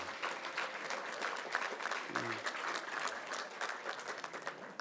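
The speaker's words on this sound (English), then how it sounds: "A round of applause, please, for the members of the Eastern Athletic Alumni Hall of Fame." Audience applause fills a Hall of Fame banquet hall for Eastern Athletic Alumni honorees, a dense, steady wash of many hands clapping at moderate volume throughout, without a pause.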